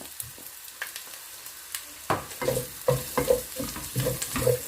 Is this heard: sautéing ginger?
yes